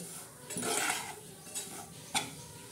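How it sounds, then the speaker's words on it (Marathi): A spoon scrapes and clinks in a dry pan as semolina (rava) is stirred and roasted without ghee, a few close scraping strokes and one sharp tap, no talking. "तर आता रवा आपण मस्त हलवत आहे।"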